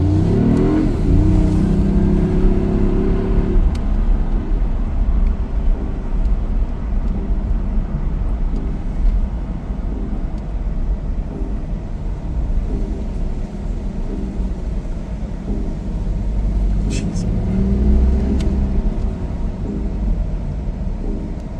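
A BMW supercar rolls down a driveway, its engine a loud, continuous mid-range drone with revving swells near the start and again toward the end, close to the microphone with no talking.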